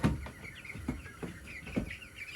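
Chicks crowded into a small brooder give off a cluster of high, thin peeps and chirps. Soft rustling and shuffling run underneath at close range, with no talking.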